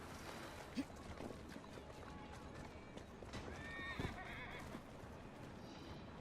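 Horse whinnying and hoof clip-clop in the Victorian London streets of Assassin's Creed Syndicate, a steady game soundscape with a sharp neigh and rhythmic hooves under busy ambient noise, quite faint overall.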